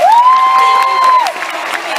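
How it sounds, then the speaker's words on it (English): Young performers on stage at a children's interpreted worship event get cheers and a crowd roar from the audience, loud and continuous, with a long sustained whoop riding over the noise. "Can we give them a round of applause?"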